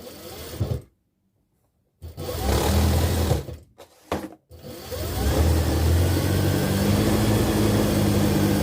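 A sewing machine whirs in short bursts separated by pauses, then runs steadily for several seconds, stitching a straight seam at a fast, even pace.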